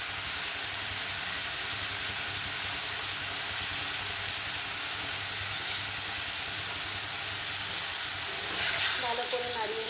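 Spices such as cumin powder frying in a pan while being stirred for chana motor chicken keema, a steady broadband sizzle with low hum, a brief clatter near the end.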